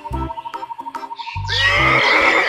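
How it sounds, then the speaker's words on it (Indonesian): A toy horse gives off an electronic neighing sound: a rapid pulsing whinny that rises into a loud, bright, buzzing neigh, close and alone. "kita di sini menemukan seekor kuda"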